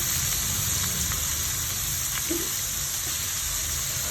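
Onion frying in a pan for wheat noodles gives a continuous, even sizzle at moderate loudness, close by, with a faint stir or scrape partway through.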